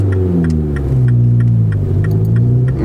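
A Mini Cooper S coupé accelerates with a deep, rising engine drone, punctuated by sharp exhaust pops that repeat at a regular, quick rhythm, loud and close.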